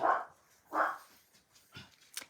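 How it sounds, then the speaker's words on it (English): Dogs bark indoors, two clear woofs followed by softer yips and whines, fairly faint and off-mic. "I'm so sorry about my dogs."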